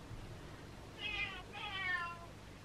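Two drawn-out cat meows from behind a closed door, slightly muffled and distant, one after another over a quiet room background.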